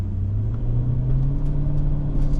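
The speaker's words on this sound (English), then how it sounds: "I have been idling this car through the whole photo set, so I am at engine temperature." A warm 2001 Mercedes-Benz ML55 AMG with its naturally aspirated engine sits idling, giving a loud, steady low rumble with a constant hum that holds even and close throughout.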